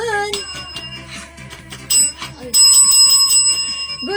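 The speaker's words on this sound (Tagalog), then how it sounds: "parang pagod yung bell natin" A bell rung during a live stream sounds in a series of bright, ringing strikes that grow louder and more sustained toward the end, heard over a low steady hum with some background chatter.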